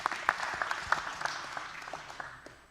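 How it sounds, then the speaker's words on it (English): A church congregation applauding during a Sunday service, a brief burst of scattered hand claps that quickly thins out and fades over a few seconds, heard from a distance. "We can applaud that."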